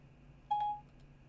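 A short electronic beep from a phone as the Siri voice assistant activates, a single clear tone lasting about a quarter second, alone against a quiet background hum.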